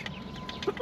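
Young backyard chicks cluck and cheep softly in brief bursts over faint background noise, with one short higher chirp near the end.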